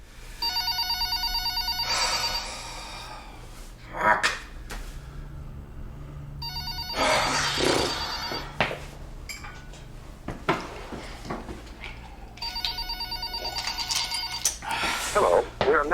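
A telephone rings in repeated electronic bursts with pauses between them, then an answering machine plays its greeting. A clink of dishes or cutlery sounds in the room, and faint voices and room noise fill the gaps.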